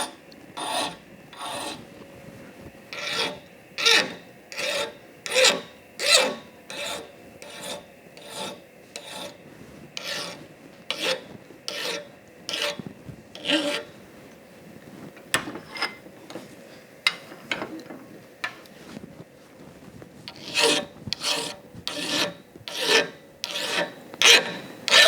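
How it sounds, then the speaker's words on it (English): Hand filing a bronze crank arm produces repeated bright, rasping strokes in a steady rhythm, close and clear, with a short pause midway before the strokes resume. "I think you can hear the hardness of the bronze when I'm filing it."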